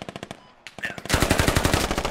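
SAW light machine gun firing in the video game Squad, rapid bursts of loud automatic fire with a short pause before a sustained, louder stream of shots.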